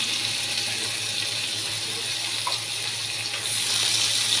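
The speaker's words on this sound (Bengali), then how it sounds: "এইবারে ওই একই তেলের মধ্যে দিয়ে দেব কেটে রাখা উচ্ছেগুলো।" Cut bitter gourd fries in hot oil left from frying potatoes, a continuous loud close sizzle with steady hiss and faint crackles throughout, with no voices.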